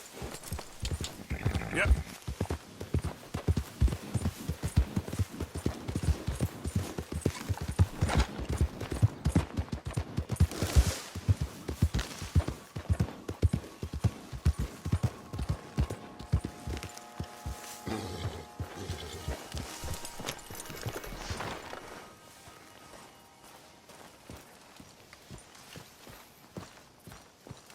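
Horse hooves clip-clop steadily at a lively pace in the Red Dead Redemption 2 video game, a dense run of quick hoofbeats that thins and fades near the end, with a brief spoken word.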